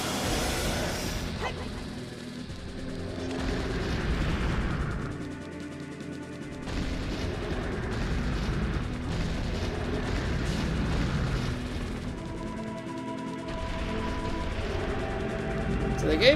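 Bomb explosions in the video game Zelda: Ocarina of Time, several broad rumbling blasts rising and fading within a loud game mix, with a voice talking over them.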